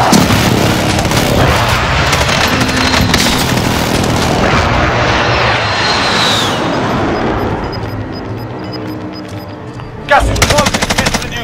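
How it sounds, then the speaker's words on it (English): A string of loud, close explosions and heavy gunfire from an enemy precision airstrike in Call of Duty Warzone on Rebirth Island, with dense continuous blasts that ease off, then a fresh burst of sharp shots near the end. "Enemy precision airstrike."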